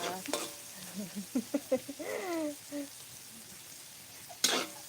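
Onions and other ingredients for turkey caldereta are sautéed in a pan. They crackle in a soft, uneven sizzle with stirring scrapes, and a person talks over the cooking.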